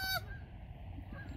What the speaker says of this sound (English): look, it's a Canada goose